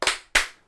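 Two sharp hand claps ring out close and loud, the second following the first after about a third of a second, with nothing else heard.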